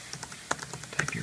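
Quick run of computer keyboard keystrokes while a password is typed on a Mac, about a dozen close, crisp clicks in an uneven rhythm with no talk.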